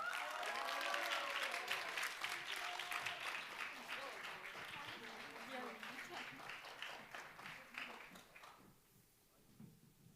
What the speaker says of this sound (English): give a round of applause for Tae-chang